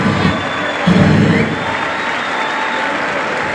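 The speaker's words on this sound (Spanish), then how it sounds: "montó por Evito, regálele fuerte el aplauso" Crowd at a bull riding rodeo during a fair tournament in San Miguel Ajusco claps and cheers, a dense roar of applause with a louder swell near the start, loud and continuous.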